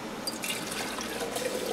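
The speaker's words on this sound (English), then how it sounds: "I like to put some water in the jar first" Water poured into an empty quart glass canning jar, a steady splashing trickle that continues close up for the whole short moment, with no talking.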